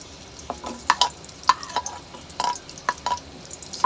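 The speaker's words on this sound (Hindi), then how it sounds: "ऑयल को गरम करते हैं, प्याज डाल देते हैं" Onions go into about a cup of hot oil in a pan, giving a soft, low sizzle with scattered crackles, pops and clinking stirs at an irregular pace and no voices.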